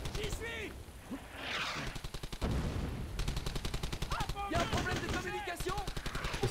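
Rapid bursts of machine-gun style gunfire in Brothers In Arms: Hell's Highway rattle over a busy mix of effects, with several sustained volleys across the clip.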